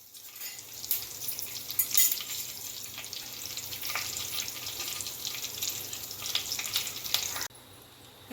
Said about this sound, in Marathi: हे जिरं टाकून घ्यायचे फोडणीला